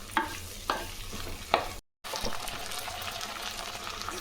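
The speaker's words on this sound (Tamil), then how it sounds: "அவரைக்காய், உருளைக்கிழங்கு, முருங்கைக்காய், மாங்காய், இது கொஞ்ச நேரம் வதங்கட்டும்." Broad beans, potato, drumstick and raw mango sautéing in a pan, a soft continuous sizzle broken by a few sharp stirring scrapes and a brief gap.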